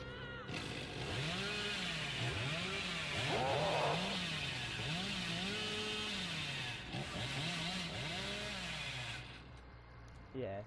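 A killer's chainsaw in Dead by Daylight revs in repeated rising-and-falling surges, roughly every second, a buzzing motor whine over about ten seconds, with a brief burst of other game noise midway.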